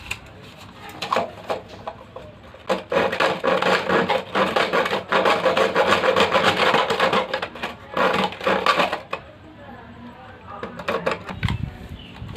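A hard plastic plate is cut for a homemade crab trap, giving loud, rapid rasping and scraping strokes close up in a sustained burst, with softer scraping and a voice heard before and after.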